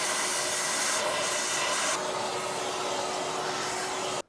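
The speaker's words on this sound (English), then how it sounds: "Let's do a little vacuuming." A vacuum cleaner roars steadily and close while cleaning a Land Rover engine with a broken ring land on cylinder 3 and its gasket removed, its whooshing pitch shifting slightly as the nozzle moves before it cuts off abruptly.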